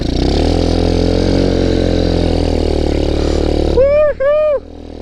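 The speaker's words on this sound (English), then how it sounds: "Stop here, we'll do a little snow burnout." A motorcycle engine holds a loud, steady high rev as its rear tire spins in snow, then drops off and blips twice in quick bursts near the end.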